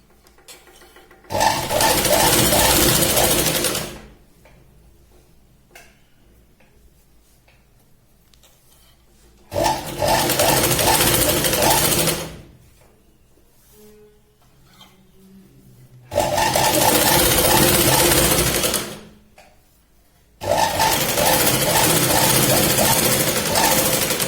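A sewing machine stitches katori blouse fabric, running in four loud bursts of a few seconds each, separated by quieter pauses with faint handling sounds.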